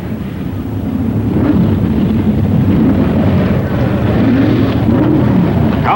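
Steady engine rumble and wind-buffeted roar as 1964 drag racing cars, one driven by Dan Smoker of Newport News against qualifier Bud Fauble, inch up to the start line at a drag strip, loud and continuous throughout.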